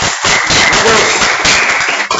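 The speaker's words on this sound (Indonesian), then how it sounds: "Tepuk tangan untuk Winda dulu" Applause from a classroom of students for a classmate, a dense, steady patter of many clapping hands filling about two seconds before cutting off.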